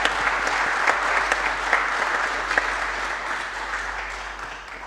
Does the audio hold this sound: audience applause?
yes